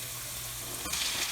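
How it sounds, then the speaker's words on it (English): Marinated beef sirloin hits a hot pan of onion and garlic, a steady close sizzle that flares into a louder, brighter hiss near the end as the meat lands. "So now let's go ahead add on our marinated sirloin"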